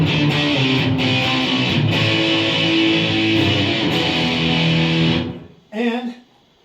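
1972 Custom Hustler guitar amp in oscillation, a dense, loud buzzing distorted roar that holds steady for about five seconds before cutting off, followed by a brief voice.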